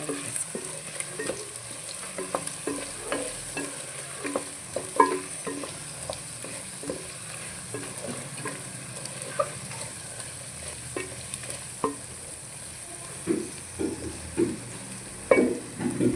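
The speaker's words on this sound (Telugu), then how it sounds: "మంచిగా ఇలా ఫ్రై అయిపోతుంది" Boiled potato pieces frying with turmeric in a pan, a continuous close sizzle with frequent scraping stirs and light clatters of the spatula throughout, no voices.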